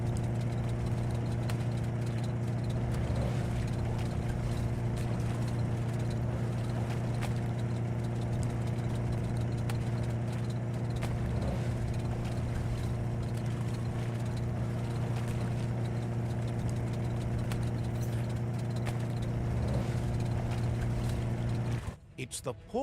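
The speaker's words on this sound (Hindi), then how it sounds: "बाइक चलाना में मजा आ रहा है" Motorbike engine while riding in the video game Biomutant, a steady low droning hum with a constant tonal idle-like note, continuous for over twenty seconds before cutting off abruptly.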